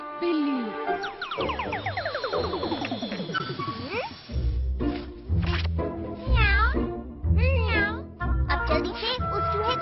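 Cartoon cat meowing in a Hindi-dubbed Doraemon episode: several loud, drawn-out meows and yowls mixed with springy boing effects and other cartoon sound effects.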